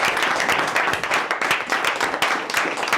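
Dense, continuous audience clapping at a Les Républicains political meeting in Vierzon, loud and sustained throughout with no voices on top.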